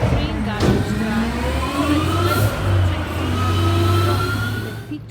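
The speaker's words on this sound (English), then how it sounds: "the green garbage truck" A green garbage truck's engine revs at a construction site, a steady mid-pitched roar that rises and falls over several seconds, with a voice talking over it throughout.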